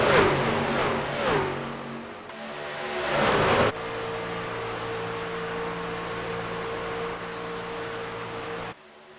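Racing truck engines at Daytona in a sim race game drone steadily in a pack, with a louder close pass and revving early on before a sustained even engine hum that cuts off abruptly near the end.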